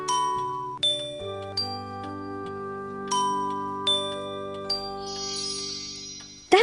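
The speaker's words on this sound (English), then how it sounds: "firstly, you need to ring the bells" Chiming bells from The Snow Queen fairy-tale story game ring out in a melodic sequence of clear, sustained bell tones, several struck notes overlapping and decaying over a soft held musical backdrop, with no voices.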